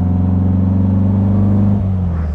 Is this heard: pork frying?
no